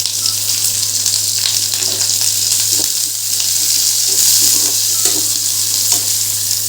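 Onion frying in hot oil in a pan, a loud, steady, close sizzle that continues throughout, with a low constant hum underneath.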